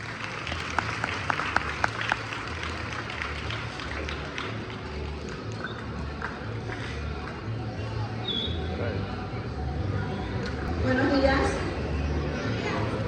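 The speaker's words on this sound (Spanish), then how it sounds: "La recibimos con un fuerte aplauso." Audience applause welcoming a panelist at a school debate, a steady wash of clapping lasting the whole stretch with murmuring and crowd noise underneath, swelling slightly near the end.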